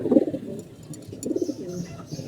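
Domestic breeding pigeons coo softly and continuously close by, with throaty, rolling calls swelling and fading in a steady murmur and no voices over them.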